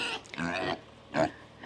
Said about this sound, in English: here are some noisy pigs